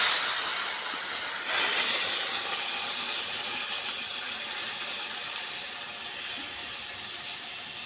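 Hot water poured into a pan of fried papaya and potato, a broad steady hissing rush of steam and liquid, close and constant, fading slightly toward the end.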